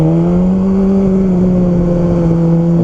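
A BMW S1000RR motorcycle in race mode holds a loud, steady engine drone with strong harmonic tones that rise slightly and then settle, close to the machine, with no speech.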